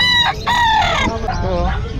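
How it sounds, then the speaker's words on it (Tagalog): A rooster crows loudly and close by, one drawn-out call following a short clucking lead-in. "dami na ang mga manok na naman dito"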